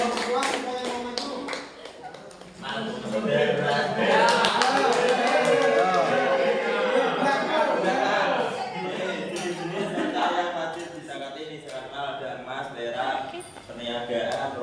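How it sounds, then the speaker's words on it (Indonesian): Classmates applaud in a classroom lesson, a burst of scattered hand clapping that swells and carries on, mixed with chatter and light chuckling from the group. "Ya, tepuk tangan teman-teman"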